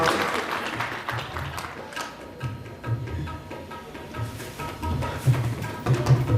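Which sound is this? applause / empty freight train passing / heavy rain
applause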